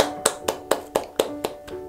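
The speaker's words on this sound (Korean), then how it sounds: "와 여러분 진짜 박수." Eight sharp hand claps come in a steady, even rhythm, close and distinct, with no talk over them.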